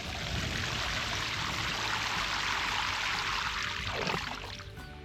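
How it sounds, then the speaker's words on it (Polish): Water pours steadily into a planting hole for a pumpkin, layered with nettle and compost, as a continuous close splashing rush that tapers off near the end, with no talk. "I wszystko podlewam wodą."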